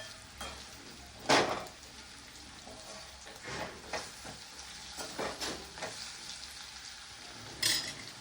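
Baingan bharta being stirred in a pan after turmeric and salt are added, with soft scraping and stirring strokes, a louder spoon scrape early and another near the end over a faint sizzle; no talking.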